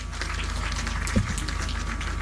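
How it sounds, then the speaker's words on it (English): A launch event audience gives a faint, distant round of applause, a thin steady patter of clapping under room noise, with a single thump midway. "A round of applause, ladies and gentlemen"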